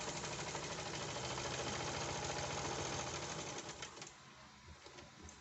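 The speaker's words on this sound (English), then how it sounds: "Okay, so I can start sewing." A zigzag sewing machine stitches a buttonhole in a fast, steady run of needle knocks over a motor whir, close and loud, then slows and fades into a few softer taps.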